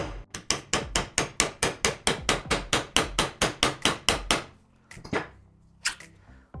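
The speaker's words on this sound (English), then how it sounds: "you want to get your mallet and quite simply just hit it down quite firm" A mallet strikes an e-bike suspension fork resting on a rubber mat, about eighteen firm, evenly paced blows in a rapid series, then a pause and a few scattered knocks, close and loud.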